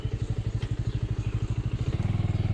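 Close, steady throb of a Bajaj Avenger 220 Street motorcycle engine coming to a stop on a rural ride, its even pulsing beat loud and alone, quickening slightly toward the end.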